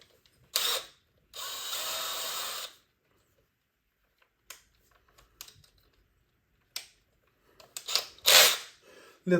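Short bursts of a power drill whirring as it drills down into wood, several separate runs with quiet gaps between, close by and fairly loud.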